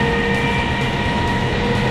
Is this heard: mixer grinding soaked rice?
no